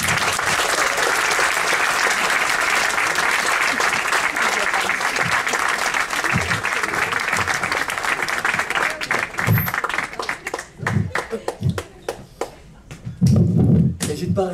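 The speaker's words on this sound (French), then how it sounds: "N'hésite pas à réclamer des applaudissements" Loud, dense audience applause for comedian Simon Planck at a French stand-up showcase, a steady roar of clapping that thins out after about ten seconds into scattered claps and a few voices.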